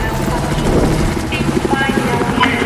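Helicopter in the Battlefield 4 video game, a steady loud engine and rotor drone filling the whole stretch, with voices talking over it.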